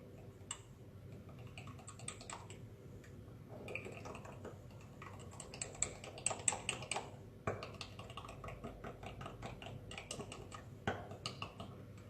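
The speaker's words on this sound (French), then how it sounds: "mélanger jusqu'à ce que les boosters soient bien incorporés à la base" Small hand tool stirring boosters into a homemade moisturising day cream base, giving soft irregular clicks and scrapes against the container, faint and close, with no talking.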